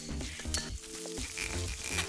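Onions sautéing in hot oil in a heated pan give a steady, dense sizzle and crackle with some stirring scrapes, continuous and close, with no talk.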